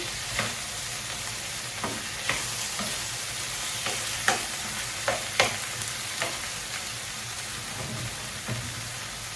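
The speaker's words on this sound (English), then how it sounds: "So I've washed these lentils, add them in." Washed lentils tipped into a hot cooking pan, giving a constant sizzle with scattered sharp clicks and scrapes from stirring, close and fairly loud with no talk.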